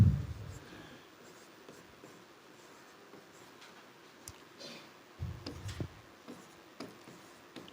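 Marker or chalk scratches across a board as chemistry theory is written out, faint intermittent strokes and taps against a low room hum with a couple of soft thumps.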